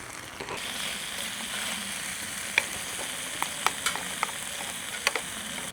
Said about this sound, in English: I've just got some Edam cheese I'm going to melt